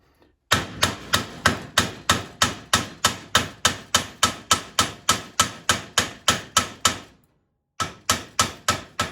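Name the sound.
hammering on a metal rod end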